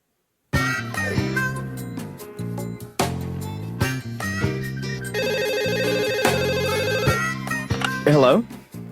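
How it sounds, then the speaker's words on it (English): A telephone bell rings loudly in repeated bursts from a cartoon therapy comedy scene, with a ringtone-like electronic warble in the middle stretch and a sharp rise near the end. "I expected Sarah to answer the phone."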